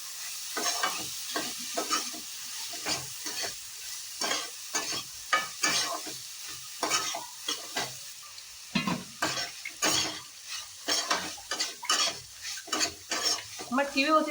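Moth beans (matki) are stir-roasted in a pan, a spatula scraping and clattering in quick rhythmic strokes over a steady soft sizzle, close and clear without any talk.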